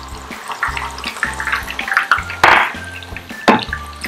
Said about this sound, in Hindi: ऑयल गर्म हो चुका है, इसमें अदरक लहसुन का पेस्ट ऐड करेंगे।